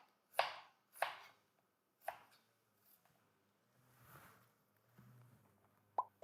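An onion being cut into half-moons on a board, several crisp knife chops in a loose rhythm, then softer handling and a couple of final taps, close and quiet.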